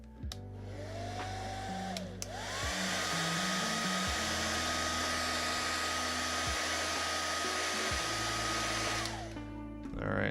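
A hot-air gun or hair dryer blows steadily for about seven seconds, warming a dbrand leather skin during installation, starting with a brief burst before settling into a continuous loud whoosh with a motor whine underneath.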